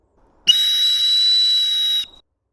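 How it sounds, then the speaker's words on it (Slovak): A hunting dog whistle is blown once in dense forest, giving a single steady, piercing tone that holds for about a second and a half, loud and close, with no voices around it. "píšťalka prerezáva vzduch"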